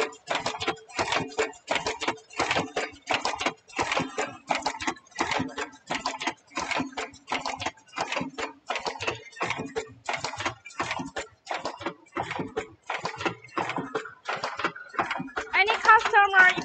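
An automatic mask making machine welds ear loops onto masks in a fast, steady run of mechanical clicks and ticks, repeating at a constant rhythm close by and fairly loud throughout.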